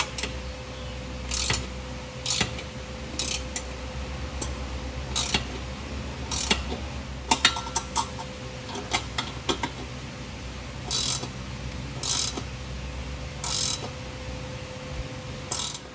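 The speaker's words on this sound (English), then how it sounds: "now we're going to use the 14mm wrench to tighten them up" A 14mm wrench ratchets on exhaust hanger bolts under a Fiat 124 Spider Abarth, giving bursts of sharp clicking strokes spaced a second or two apart over a low background hum.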